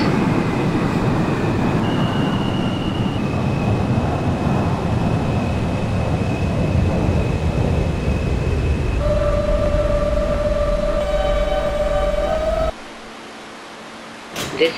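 An R160 subway train in the OpenBVE simulator runs on an A local toward Euclid Avenue, a loud continuous rumble of motors and wheels with rising and falling whine tones, dropping to quiet near the end as it stops.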